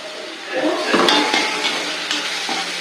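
Onions sautéing in a pan for a beetroot recipe, a steady soft sizzle with scrapes and clinks of a stirring utensil against the pan, close and continuous.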